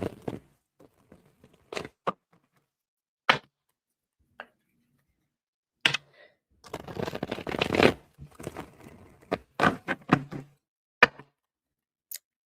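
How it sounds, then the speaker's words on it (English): Tarot cards are shuffled in short separate bursts of riffling and patter, with a longer run of shuffling in the middle, close by and alone. "I'm getting a good shuffle."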